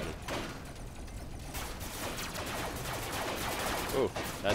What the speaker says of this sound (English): that sounds like there's a big battle going on down there